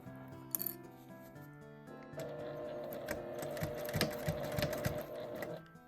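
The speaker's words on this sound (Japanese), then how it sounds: "上端を1周縫います。" A sewing machine stitching around the top edge of a fabric makeup bag, a sharp handling click, then a steady mechanical run of rapid stitching that holds for several seconds before stopping.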